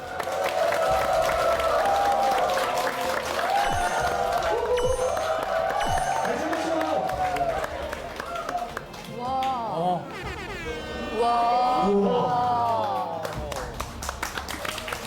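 Audience applause during a standing ovation, steady clapping and crowd noise running underneath loud, excited voices that talk and exclaim throughout.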